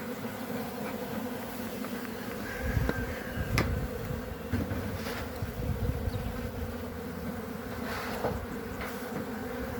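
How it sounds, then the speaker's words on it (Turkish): Dense buzzing of many bees fills the air, a steady hum with individual insects passing near, no voices. "Ayağımın içinde arı var."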